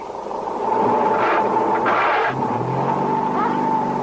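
A diesel truck pulling away and accelerating, its engine rumbling and rising loudly in pitch, with a couple of hissing bursts partway through.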